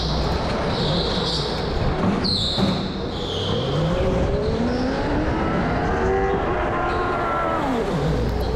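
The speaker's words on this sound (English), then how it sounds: "Ooh, sweet power slide." An electric go-kart power slides on a karting track, its tires squealing in rising and falling whines over a constant rushing background, with no engine roar and no talking.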